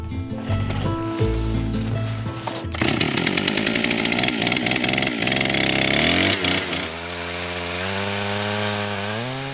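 A chainsaw fells a tree in a jungle, running loud and close with a steady buzzing drone that rises in pitch and revs up as it cuts, continuing without pause.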